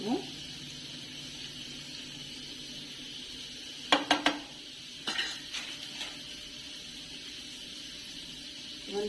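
Mutton pepper fry being stirred in a pan, with a few sharp spoon-on-metal scrapes and clanks clustered mid-clip over a quiet, steady kitchen background.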